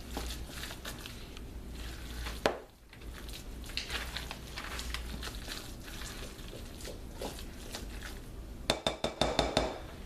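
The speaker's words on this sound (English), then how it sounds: "So now we're just going to make sure we've got this good mixed up." Crab cake mixture stirred in a bowl with a utensil, scraping and clinking against the bowl steadily, with a sharper burst of knocks at the end.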